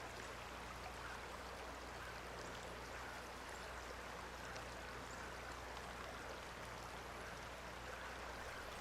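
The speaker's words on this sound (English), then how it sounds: "The mighty Chehalis River is showing very little mercy as it rips through this rural agricultural area." Floodwater of the Chehalis River rushing through rural farmland during a near-record flood, a steady broadband roar of moving water that holds constant and fairly loud throughout, with no voices.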